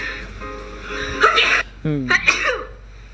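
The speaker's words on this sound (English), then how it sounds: "I have to sneeze." A close, loud sneeze bursts out after a moment of breathy build-up, followed by brief vocal sounds.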